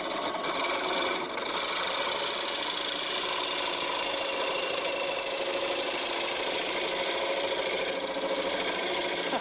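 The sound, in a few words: homemade bowl gouge making inside cuts on a wood lathe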